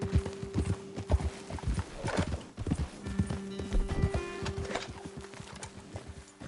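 Horses' hooves clip-clop along a trail in the western video game Red Dead Redemption 2, an uneven, close rhythm of several animals walking, with faint birdsong and a brief snort.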